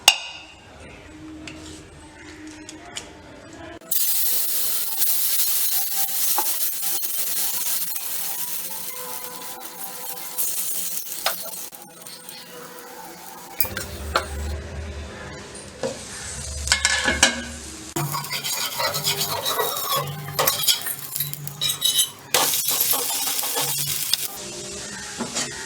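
Karunguruvai rice dosa batter poured onto a hot pan hits with a sudden bright sizzle, followed by close scraping and spreading sounds and renewed crackling frying, with no talking.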